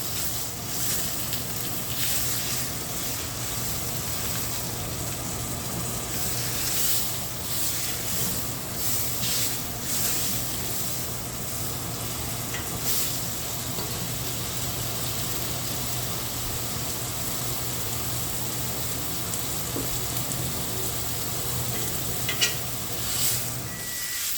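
Quinoa warming in a pan gives a steady, even sizzle and hiss that runs unbroken for about twenty seconds, moderately loud and close, with faint stirring scrapes and no talking.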